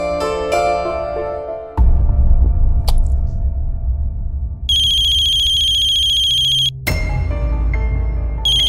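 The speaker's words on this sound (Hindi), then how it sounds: "10 बजते नहीं कि ऋतु दी का फोन आना चालू हो जाता है।" A phone ringtone rings loudly and alone in a domestic scene, sounding as a bright repeating electronic melody that stops briefly and then resumes over a low background hum.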